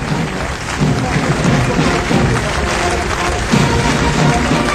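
Crowd applause from spectators and the official stand as the Foreign Legion parades in Paris on 14 July, a dense, steady roar of clapping with a noisy, rain-like texture and no words spoken.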